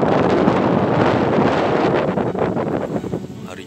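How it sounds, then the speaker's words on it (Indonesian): Steady, loud wind at Riam Kanan reservoir buffeting the microphone, a broad roaring rush that continues throughout with slight gusting toward the end. "Harinya berangin bener kawan."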